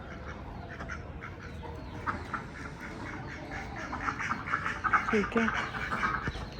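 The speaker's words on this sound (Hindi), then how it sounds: "ये डक्स का यही सीन होता है, एंड पे जाती हैं सबसे" Farmyard ducks quack repeatedly at close range, growing busier toward the end, amid other birds, faint scratching and someone talking.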